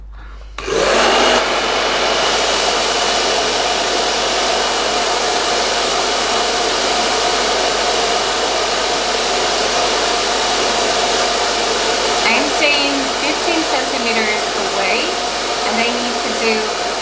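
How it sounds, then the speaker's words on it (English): A hair dryer on medium setting blows hair dry, starting abruptly and then holding a loud, steady whooshing roar close up, while a voice speaks faintly under it near the end. "So let's start blow drying in medium, this side that has no product on."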